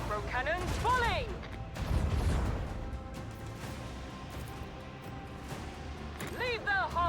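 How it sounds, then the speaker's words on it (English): Micro cannons fire in the Warhammer 40,000: Rogue Trader video game, a space battle heard as loud booming bursts mid-clip beneath game music and swelling tonal effects, with a voice speaking near the start and end. "Micro cannons fully."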